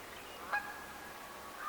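A single faint goose honk sounds from a distance over quiet outdoor background noise.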